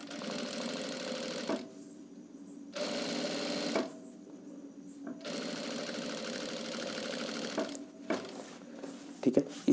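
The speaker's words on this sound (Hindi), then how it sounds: "फिर रखकर जो है हमें किनारी सिलाई मारना है" A sewing machine stitching along the edge of a shirt in bursts of steady mechanical whirring, with short pauses between runs and light clicks at the end.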